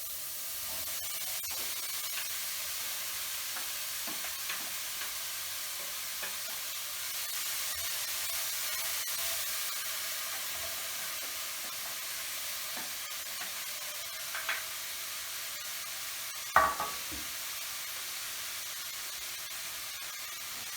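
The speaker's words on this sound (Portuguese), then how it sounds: "Um leve refogadinho. Cebola e o alho." Onion and garlic sauté in a pan for a chicken risotto, a soft, steady sizzle and hiss throughout, broken once by a brief clink of stirring near the end.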